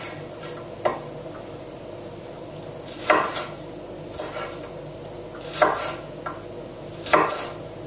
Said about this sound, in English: slice it into fine slices